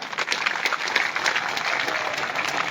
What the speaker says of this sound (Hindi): दोनों हाथ उठा के जोरदार ताली बजा के सारा मंच को स्वागत कर दो जी